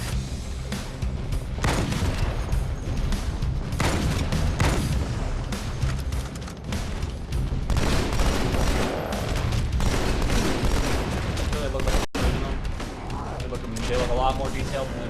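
Halo 2 Anniversary gunfire: dense, continuous bursts of weapon fire and explosive booms fill the whole stretch, loud and busy, with a game voice mixed in.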